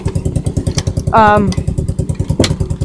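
A 90cc Polaris Sportsman ATV engine idles close by with a steady, throbbing putter, and a voice speaks briefly over it partway through.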